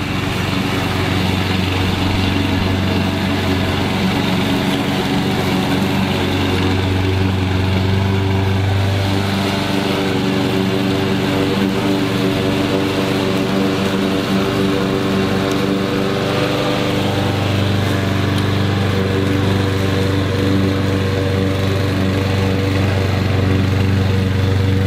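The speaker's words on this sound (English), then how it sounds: "first time mowing the lawn" A lawn mower cutting the grass of a university football field, its engine droning loud and steady throughout with a shifting low hum, no talk.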